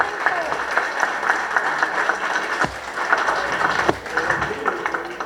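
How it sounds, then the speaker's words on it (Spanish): Applause for resident doctors at a medical lecture on transfusion therapy, moderate clapping from the audience with a few louder thumps and voices murmuring beneath. "aplauso para los residentes."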